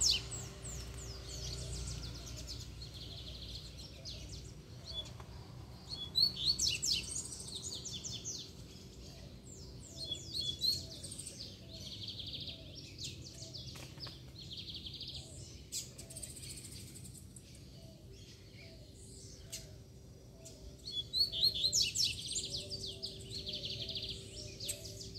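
A female songbird chirps in short bursts of bright, high calls over a quiet outdoor background, with faint insect buzzing and a steady low hum.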